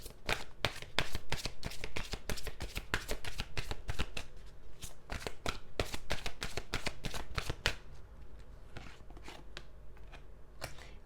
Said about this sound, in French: Je vais juste rajouter une petite carte ici.